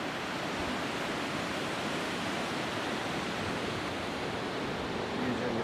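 Fast mountain water rushes down a waterfall in a Himalayan valley near Chitkul, a dense, unbroken roar that holds steady at close range for the whole stretch.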